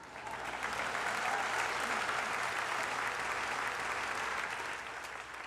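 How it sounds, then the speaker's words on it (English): An audience breaks into dense, sustained applause that swells, holds for several seconds, then begins to fade, with no voices over it. "This unnamed movement, you can clap for that"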